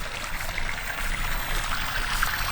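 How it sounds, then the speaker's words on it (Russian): Water sloshes and trickles steadily as a hand dips into warm water heated over a campfire for shaping lamb lula kebab outdoors, a close, soft, continuous splashing with no talk. "Окунаем руку в теплую воду"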